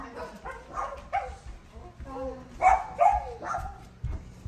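Dogs barking and yipping in short excited bursts mixed with whimpers, fairly close, with people talking over them.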